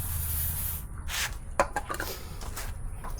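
Degreaser sprayed onto a Kawasaki Versys 650 motorcycle chain, several short hissing spray bursts with faint rubbing between them, close up.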